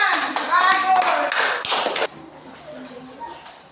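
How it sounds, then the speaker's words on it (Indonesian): Classroom of fifth-grade primary school children clapping their hands together in a short lively burst that stops abruptly, followed by quiet room sound and faint talk. "tepuk tangan"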